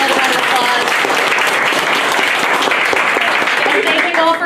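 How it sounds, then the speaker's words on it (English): Loud, full applause from the audience at the close of a Girl Boss panel, many hands clapping in a thick, continuous roar that stays strong from start to finish, with some voices mixed in under it. "Give another round of applause."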